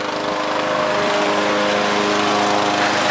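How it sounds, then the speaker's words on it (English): A lawn mower cuts grass, its engine giving a steady, close, continuous drone with no change in pitch. No one speaks over it. "Oh, look, Allie's mowing the lawn."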